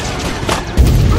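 A bomb goes off as a man blows himself up in the 2010 film Salt; a sudden loud, deep boom bursts in near the end and rumbles on after a short stretch of low background noise.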